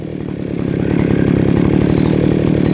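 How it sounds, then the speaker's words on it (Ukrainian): A Makita petrol brush cutter runs close by, its two-stroke engine buzzing steadily and rising slightly in pitch before holding a constant whine. "коса досить так гарно і тихесенько працює"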